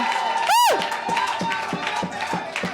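Church congregation at a French-language worship service raising cries of joy, a loud sustained mass of shouting and cheering voices with a rising whoop near the start and rhythmic clapping running beneath.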